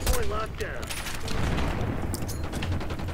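Rapid bursts of automatic gunfire from a Black Ops 6 match ring out continuously at close range, dense overlapping shots running the whole time while a voice talks over the top.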